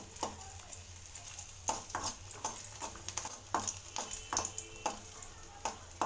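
Garlic fries in hot oil in a pan on a vegetarian kitchen stove, a steady soft sizzle broken by repeated scraping knocks of a stirring spoon at an uneven rhythm.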